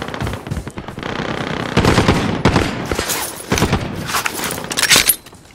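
Rapid bursts of automatic gunfire in Call of Duty: Warzone, loud and close, come in repeated volleys with short gaps between them.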